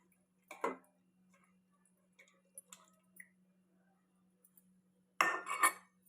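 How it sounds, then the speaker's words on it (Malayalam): Ash gourd curry is stirred in a pot, giving a few quiet, wet squishes and light clinks of the utensil against the pot, spaced out, with a louder burst near the end and a faint steady hum underneath. "എന്നിട്ട് നമുക്കൊന്ന് ഇളക്കി കൊടുക്കാം"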